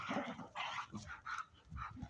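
Energetic, healthy dogs sharing an enclosure bark and yip in quick, overlapping bursts, close and fairly loud.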